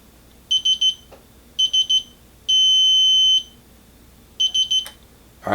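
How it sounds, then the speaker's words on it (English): Digital torque wrench used on a Gideon Judge optic and co-witness iron sight install: triple warning beeps near the limit, then one long steady tone as the set torque is reached, followed by another triple beep, all close and clear. "Solid beep means that I have reached my torque limit and it's time to stop turning."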